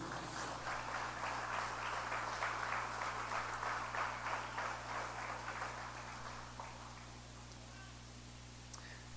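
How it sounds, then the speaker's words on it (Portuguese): A church congregation applauds faintly in a large room, steady clapping for several seconds that then fades away, with a low hum underneath. "Dê um aplauso a Jesus por isso."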